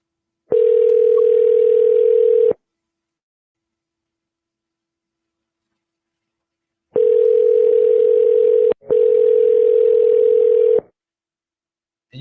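Outgoing phone call ringback tone to a real estate contact: a steady electronic tone in three long bursts, one near the start and two back to back later, separated by silence, loud and alone.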